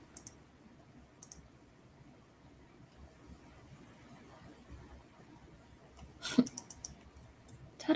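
A computer mouse clicks a few times, quiet sharp ticks scattered over faint room noise, with one clearer pair of clicks near the end and no talking.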